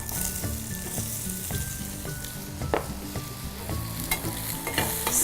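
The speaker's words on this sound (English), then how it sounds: "Again, add a teaspoon or 2 of oil and add the carrots." Thin carrot slices sizzle in a teaspoon or two of oil in a pan, a dense crackling hiss with occasional stirring scrapes and a soft tonal melody running underneath.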